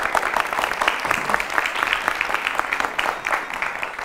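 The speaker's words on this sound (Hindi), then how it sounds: "अपने लिए तालियां बजा लो।" A studio audience on a morning television show claps for a group of performers, giving a dense, continuous rattle of many hands that holds at an even level throughout.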